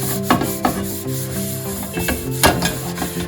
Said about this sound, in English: I take a couple tablespoons of salt. And I just scrub it up the sides.